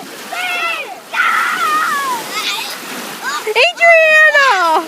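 Beach waves splash and wash steadily on a beach day, a continuous surging hiss heard under excited children's voices talking and shouting.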